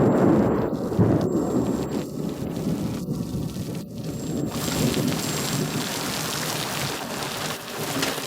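Heavy rain pours down in a steady hiss while thunder rumbles and cracks through the first half, then the downpour carries on alone, loud and close, with no talking.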